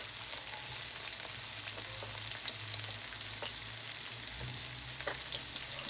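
Onion and other ingredients for a Cuban oregano soup sauté in a pan with a steady, close sizzle and faint crackles, no voices over it.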